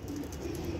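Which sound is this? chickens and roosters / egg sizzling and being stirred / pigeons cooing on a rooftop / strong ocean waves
pigeons cooing on a rooftop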